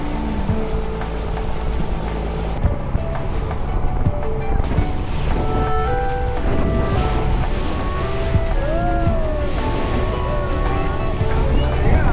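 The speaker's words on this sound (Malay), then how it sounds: "Jom, bot dah ready dah. Kita naik sampan." A boat motors across open sea off Kuala Terengganu, with heavy engine rumble, rushing wind and sea noise throughout, plus faint voices and whistling tones mixed in.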